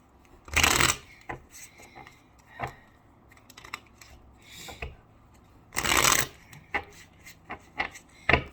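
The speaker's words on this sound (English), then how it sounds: "I'm going to shuffle 3 more times" A deck of tarot cards is shuffled by hand in two loud riffling bursts, with lighter card taps and rustles between them in a quiet room.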